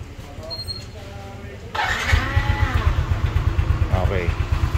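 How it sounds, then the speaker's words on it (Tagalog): Yamaha NMAX scooter engine cranking and catching, settling into a steady pulsing idle close by, with a voice speaking over it. "Start muna natin yung motor."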